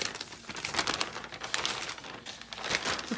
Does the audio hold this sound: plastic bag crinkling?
yes